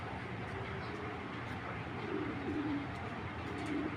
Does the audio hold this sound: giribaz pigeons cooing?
yes